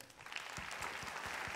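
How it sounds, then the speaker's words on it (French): An audience applauding a company at an inauguration event, faint and somewhat distant, a soft wash of clapping building up after a quiet start and holding steady with a few distinct low thumps. "Vous applaudissez le groupe Fonroche"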